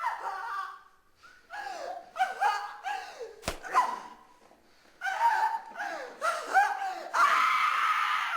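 Screams from a horror film scene in Tesis, played on a television: several drawn-out, wavering cries rise and fall in bursts, with a sharp click midway and a louder, harsher stretch near the end.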